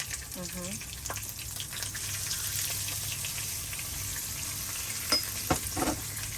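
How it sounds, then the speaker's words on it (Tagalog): Garlic and patis fish sauce fry in a pan for kare-kare, a steady close sizzle with a few sharper crackles and pops near the end and no talking. "So hayaan lang natin maluto yung patis na medyo siya matuyo"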